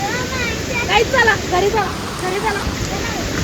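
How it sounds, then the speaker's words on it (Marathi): Floodwater rushing over a village bridge during a monsoon flood, with waves breaking across it: a steady, loud roar that fills the clip while someone talks over it. "लाट मारते, वाढतंय पाणी."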